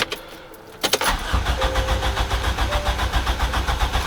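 A car engine being cranked with the key during a compression test catches after a brief pause and settles into a steady idle with a rhythmic pulse, fairly close.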